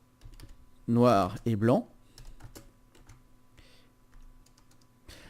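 Typing on a computer keyboard to name a layer: sparse clicking keystrokes scattered around a short spoken phrase, quiet and close.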